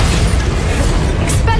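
Bombarda blasting spell in the Hogwarts Legacy video game: a loud, sustained rumbling boom with heavy low end that fills the short moment, with no voices heard.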